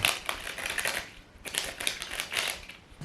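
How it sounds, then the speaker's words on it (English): Playing cards handled during card-trick practice, with bursts of crisp riffling and flicking in a rough repeating rhythm, close and clear with brief pauses between bursts. "the sound that the cards make, it's just awesome"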